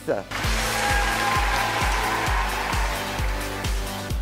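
A studio audience gives a dense, steady round of applause to welcome the guest, over a thumping music beat that repeats about twice per second.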